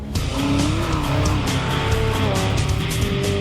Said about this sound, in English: Cars touching speed of 140, 150 plus.